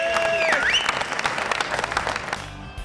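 An audience applauds the Bayernliga women's team at a football tournament, dense steady clapping from a crowd, loud and close, with a brief whistle-like tone early on and a little voice mixed in.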